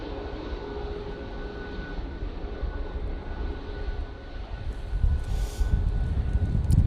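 Airliner engine roar at Manchester Airport on a windy day, a steady broadband rumble with gusting wind noise that swells louder toward the end.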